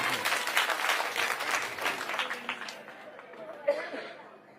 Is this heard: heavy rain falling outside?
no